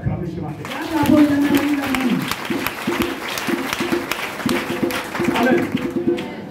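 A church congregation at an Easter service claps and cheers, with a preacher's voice speaking over the crowd as the applause rises and swells in bursts.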